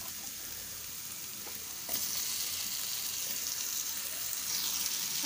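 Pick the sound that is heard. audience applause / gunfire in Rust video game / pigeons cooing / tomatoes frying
tomatoes frying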